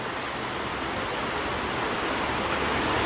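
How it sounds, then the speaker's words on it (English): Waves wash onto the Lake Michigan shore near the Cut River Bridge, a steady, fairly loud, unbroken rushing surf with no distinct breaks or voices. "It is, well, it's waves."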